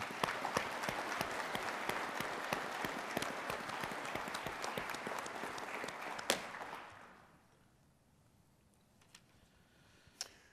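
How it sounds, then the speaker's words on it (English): A hall full of attendees at a Masonic Grand Lodge installation ceremony applauds in a thick, sustained burst of crisp claps for about seven seconds, then it thins and fades to near quiet, with a few stray claps after. "Let's hear a round of applause."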